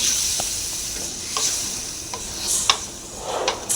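Chickpeas stirred into sizzling chana masala in a pan, a soft continuous fry hiss with intermittent scraping stir strokes close by, no voices.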